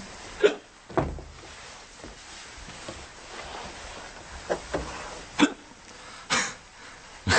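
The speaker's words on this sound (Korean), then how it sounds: "갑자기 딸꾹질이 나오네." Repeated sudden hiccups from a person indoors, about eight sharp short bursts at irregular intervals, fairly close and alone without talk.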